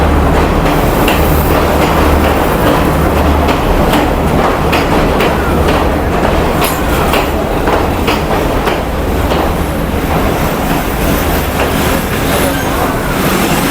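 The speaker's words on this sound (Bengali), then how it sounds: "আমাদের ট্রেন ছেড়ে দিয়েছে" A passenger train on the Nuwara Eliya to Ella line in Sri Lanka pulls away with a loud, steady rumble, rattling and rhythmic wheel clatter on the rails, heard from inside the carriage.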